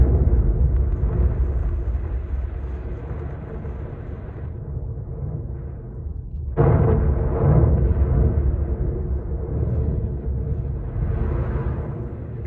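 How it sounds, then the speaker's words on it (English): Deep, sustained rumbling roar from volcanic explosions at Yasur volcano, loud and continuous, easing off briefly before a fresh surge of booming power takes over and rolls on. "explosions are so energetic that they generate visible shock"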